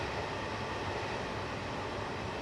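A distant train rumbles steadily on Cajon Pass in Train Simulator 2015, a continuous broadband rolling drone with faint rail clatter and no voices.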